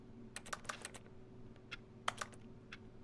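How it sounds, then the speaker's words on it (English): Keys clatter in quick uneven bursts from a video game's keyboard sound effects, a few clustered presses then a pause and another flurry, fairly soft over a low steady hum. "Why does it have keyboard noises?"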